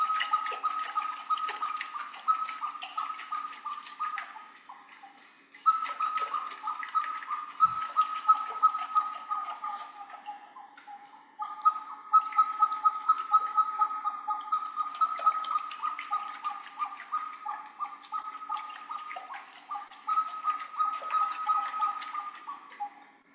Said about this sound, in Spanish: esta es la vasija más antigua hasta ahora descubierta que produce sonido